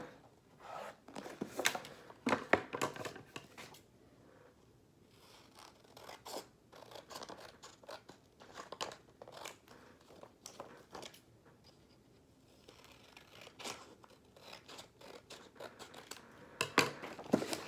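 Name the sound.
cutting sides off a box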